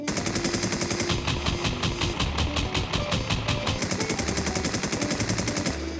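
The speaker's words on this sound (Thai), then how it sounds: "ต่อไปเป็นการยิงแบบคุมปืนนะครับดูซิว่ายิงแบบคุมปืนการเกาะก ลุ่มของกระสุนจะเป็นยังไงบ้าง" Rapid automatic rifle fire in the shooter game Infestation: The New Z, sustained controlled bursts of evenly spaced shots, loud and continuous with a short gap in the rhythm midway.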